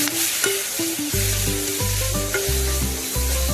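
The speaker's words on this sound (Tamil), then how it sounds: "வெங்காயம் கொஞ்சம் நல்லா வதங்கட்டும்." Chopped onion sautéing in hot oil for a brinjal gravy, a steady close sizzle with scattered pops and faint stirring, while tonal music plays loudly over it throughout.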